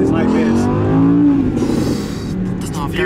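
An Audi R8 V10 Plus engine drones loudly from inside the cabin while being driven fast, its pitch climbing and settling as voices talk over it.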